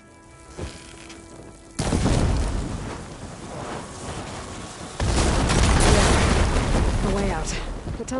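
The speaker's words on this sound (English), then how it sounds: "Hitting those blaze barrels with fire ammo should do the trick." Blaze barrels bursting after being hit with fire ammo in Horizon Forbidden West, two heavy booming blasts a few seconds apart, each followed by a long rumbling, crackling roar of fire and falling debris.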